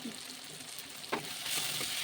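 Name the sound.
spices and ginger paste frying in a wok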